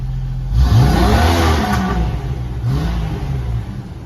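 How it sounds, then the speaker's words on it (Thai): A Jeep ZJ engine running on a gas mixer suction system revs up twice, rising and falling in pitch with a close, throaty roar and light mechanical clatter. "เร่งเครื่องได้ปกตินะครับ"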